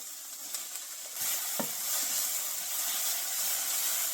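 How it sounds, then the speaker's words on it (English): Peppers sizzle and hiss as they fry in hot oil in a pan, a steady close crackle that swells after a brief stir, with no talking. "Add in your oil. And go ahead and add in your peppers."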